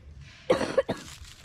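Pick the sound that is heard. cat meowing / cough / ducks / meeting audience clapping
cough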